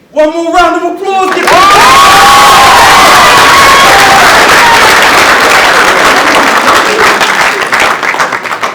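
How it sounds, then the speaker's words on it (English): A school assembly crowd bursts into loud, sustained clapping and cheering with children's shouts, which fade slightly toward the end. A brief voice comes just before the applause. "One more round of applause!"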